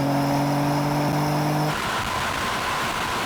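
Drag race between an AMG C63 S, BMW M3 and Audi RS4, one engine screaming at high revs on the limiter before a sudden drop in pitch at a gear change, loud and close, with rushing wind and road noise after.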